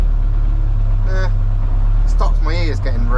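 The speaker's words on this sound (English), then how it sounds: "You'll see now how little chatter there is with that dump valve fitted." A 1.8T-swapped Toyota MR2 with a dump valve fitted drives along, its engine a loud steady low drone throughout, while voices talk over it.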